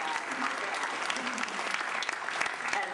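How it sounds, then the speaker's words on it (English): A town hall crowd claps for a few seconds, dense and steady applause from many hands filling the room without a break. "So I forgot to ask for a round of applause for Charles Robideau."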